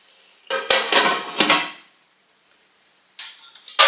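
Metal lid clanks onto a pot of chicken biryani in a few sharp knocks and scrapes, then a pause before more clattering of cookware.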